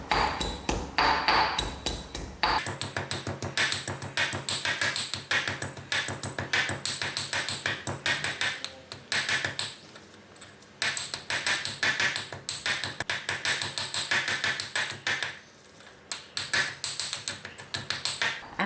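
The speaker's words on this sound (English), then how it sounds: "Then we are going to grind out our mint." Fresh mint is ground by hand for a sour milk and cucumber salad. A fast series of sharp tapping and pounding strikes runs throughout, loud and close, with a few short pauses.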